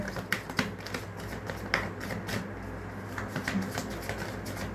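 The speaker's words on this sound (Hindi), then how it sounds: "Let me shuffle more." Tarot cards being shuffled by hand, giving a run of light, close riffling taps and flicks with small clicks scattered through, fairly quiet and without speech.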